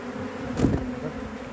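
Honeybees buzz near a hive, a steady low insect drone with one brief louder swell as a bee passes close, no voices.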